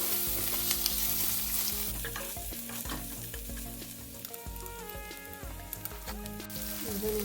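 Gongura paste fries in a pan for paneer fried rice, a continuous close sizzle broken by frequent scraping stirs.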